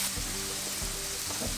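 Burger patties sizzle and fry on a Camp Chef flat top griddle outdoors, a steady, close hiss filling the whole moment with faint clinks beneath.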